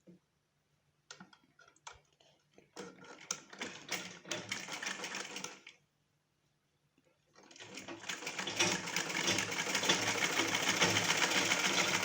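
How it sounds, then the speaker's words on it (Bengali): Sewing machine stitching the neck facing onto a small child's frock in short bursts of rapid clattering, pausing briefly, then running in a longer, steady, close whir. "প্রথমে আমি গলা সেলাই করব, গলার কাপড়টা লাগাবো।"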